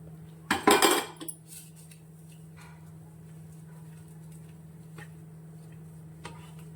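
A metal plate being handled and greased with oil while cooking junka in a home kitchen, one brief close clatter of metal near the start, then a low steady hum with faint ticks.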